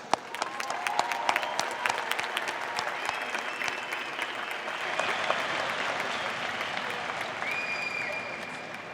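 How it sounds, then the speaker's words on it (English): Sustained applause fills the hall at a university diploma and awards ceremony, many hands clapping at a distance with a few nearer sharp claps, swelling slightly midway. "So let's give everybody a round of applause."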